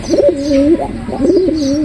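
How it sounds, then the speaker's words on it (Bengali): A pigeon close by gives a loud rolling coo that rises and falls twice in quick succession, with nothing else heard. "গতকাল পায়রিটা অন্য একটা পায়রার সাথে জোড়া নিচ্ছে দেখতে পাচ্ছেন"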